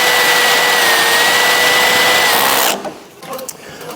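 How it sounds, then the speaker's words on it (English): A power drill whines steadily at high speed as it drives a self-drilling screw into aluminium, then stops abruptly, leaving faint handling clicks and low background noise. "They've got a drill bit head on there that I'll cut in through to the aluminium"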